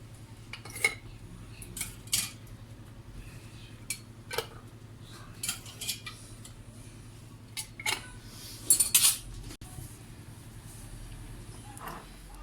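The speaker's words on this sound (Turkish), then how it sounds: "ve kapaklarını kapatıyorum." Lids are screwed onto glass jars of oven-baked tomatoes, giving scattered sharp clicks and clinks of metal against glass, with a cluster of louder rattling taps partway through, all fairly quiet.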